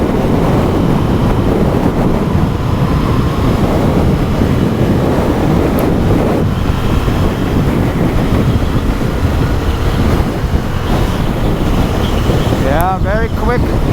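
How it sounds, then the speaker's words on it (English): Heavy wind roar buffets the microphone while riding a 2023 Honda CB750 Hornet naked motorcycle, a loud continuous rushing blast that masks most other sound, with a brief whistling rise near the end. "it is very windy today again"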